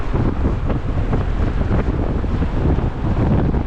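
Steady gusts of wind roar and buffet the microphone on Estrada Coronel Nicolau de Mesquita, a street in Macau beside a cemetery, a loud, continuous rumble with no voices.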